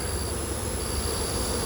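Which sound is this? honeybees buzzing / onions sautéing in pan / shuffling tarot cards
honeybees buzzing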